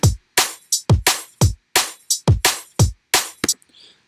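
A dry drum and bass break built from kick, snare and hi-hat plays alone and up front, with punchy, sharply decaying hits in a fast, syncopated pattern that loops through its phrase.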